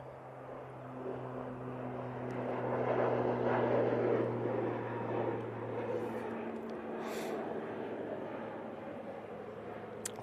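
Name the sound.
plane on takeoff roll to Guernsey, ex-Avianca livery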